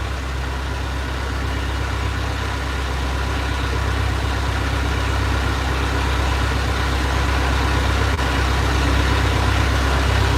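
A low, steady engine drone idling continuously, loud and close, with an even rumbling throb and no break.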